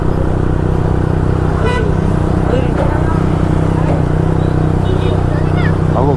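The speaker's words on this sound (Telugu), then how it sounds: "ఆ బండి ఇంకా వస్తుంది చూడు" A motorbike draws nearer on a busy road, its engine steady and loud among continuous traffic noise, horn toots and voices.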